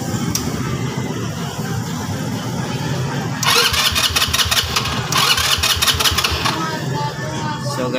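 A Motorstar 150 motorcycle that is hard to start, with a freshly swapped 4-pin CDI, cranks in two rapid rhythmic bursts, loud and close over steady background noise, and never catches.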